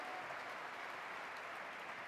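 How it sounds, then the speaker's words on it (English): An audience at a film festival closing ceremony gives sustained applause, an even, continuous roar of clapping that is faint in level but dense throughout. "Very big round of applause"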